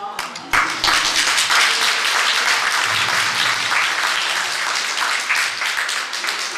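An audience applauds a folklore dance group, Kalinuschka, at Haus Leonberg, steady loud clapping from a crowd sustained throughout after a brief start.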